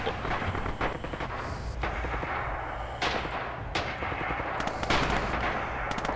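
Rapid gunfire and heavy blasts from the World War II shooter game Red Orchestra, a steady barrage of shots and booming impacts with no voices.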